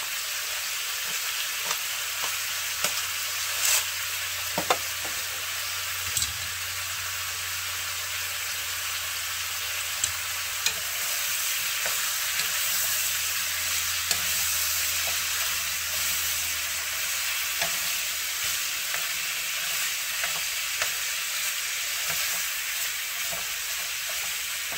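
Pork ribs fry alongside nopales in a pan with a steady, close sizzling hiss that runs the whole time, broken by occasional stirring clicks and scrapes.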